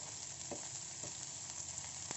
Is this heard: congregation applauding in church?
no